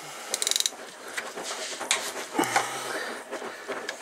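A 10 mm Allen key loosens the oil drain plug on a BMW R1200RT motorcycle, giving a quick burst of ratcheting clicks followed by faint metallic scraping and handling noises, close up and quiet.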